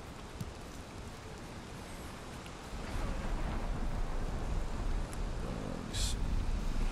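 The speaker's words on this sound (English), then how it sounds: "every time I jump in my ship, a storm blows in" A storm rolling in while sailing a ship in Valheim: a dense wash of rain and rumbling thunder that swells partway through and keeps churning, with a short bright crackle near the end.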